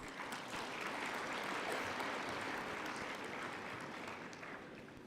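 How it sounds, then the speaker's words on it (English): Summit delegates at the 27th African Union Summit in Kigali applaud: a steady, dense wash of many hands clapping at once, sustained for several seconds at moderate distance before easing slightly. "I'd like to request a round of applause for our PRs."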